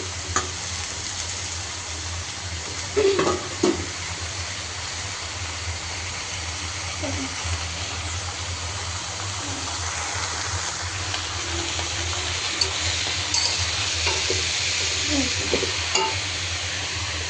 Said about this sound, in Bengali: এখন সবগুলো একটু মিক্স করে নিব, এই মশলা, চিংড়ি আর হচ্ছে শাক